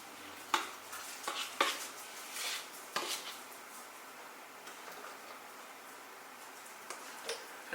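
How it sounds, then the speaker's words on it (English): A scoop digs into a tub of dextrose powder, producing faint scraping and a few sharp plastic clicks and taps, spaced irregularly in a quiet room. "So I just take a scoop of dextrose."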